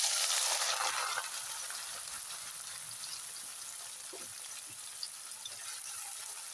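Boiled eggs fry in hot oil with a steady close sizzle, louder at first then settling into a constant crackle with a few small pops.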